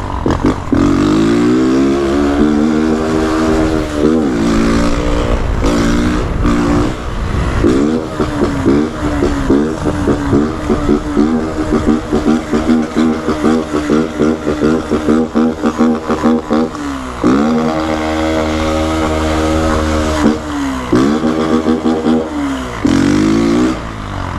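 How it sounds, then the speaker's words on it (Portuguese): A Honda Titan 160 2022 motorcycle fitted with a loud aftermarket exhaust roars past, its engine rising and falling through revs in a sustained, rough, harmonic drone that dominates throughout with brief dips between throttle bursts. "Lá vem a moto, o frio tá como?"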